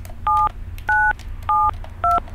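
Four telephone keypad tones sound one after another at an even pace, each a short clear dual-pitch beep separated by brief gaps, over a low background hum.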